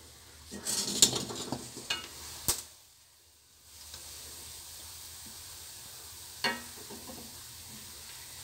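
Clams frying in a pan are stirred with a utensil, giving several clattering scrapes early on. A soft sizzle follows, then one more scrape near the end. The sounds are close by and fairly quiet.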